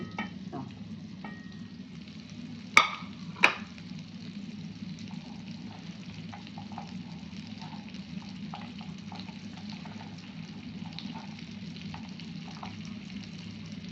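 Fish frying in butter in a pan gives a steady low sizzle throughout, with two sharp clinks of a utensil early on and faint scraping under it.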